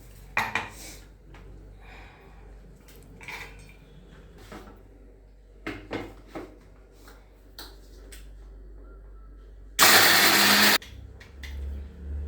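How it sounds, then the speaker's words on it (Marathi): Oreo biscuits ground in a kitchen mixer grinder: one loud, roughly one-second whirring burst near the end, preceded by scattered clinks and knocks of utensils in a quiet kitchen. "हे सगळं मिक्सरमधनं बारीक करून घेते"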